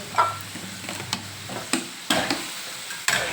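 Soft tofu stir-fried without oil with a splash of water, asparagus and bean sprouts in a pan: a spatula scrapes and taps about half a dozen times over a faint sizzle, close by.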